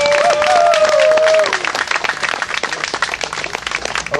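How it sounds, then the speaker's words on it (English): Applause from a rally crowd in Albany, a dense steady clapping that fills the space, with a brief tonal whistle-like sound in the first second and a slight drop in level after about a second and a half. "I want everybody to give ourselves a hand of applause."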